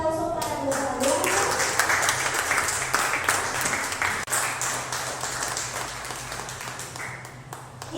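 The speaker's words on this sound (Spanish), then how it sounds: "un fuerte aplauso para los alumnos" An audience claps for students at a church gathering, dense sustained applause filling the room, loud and close, with a brief dip midway before continuing steadily.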